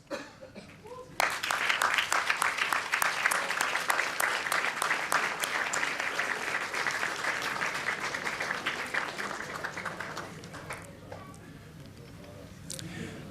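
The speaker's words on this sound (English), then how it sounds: "give a huge round of applause to your family and your friends" Graduation ceremony crowd for the Class of 2016 breaks into loud, sustained applause for family and friends, a dense roar of many hands that holds for several seconds before slowly thinning out, with a little talk near the end.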